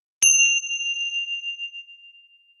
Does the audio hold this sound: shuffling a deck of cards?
no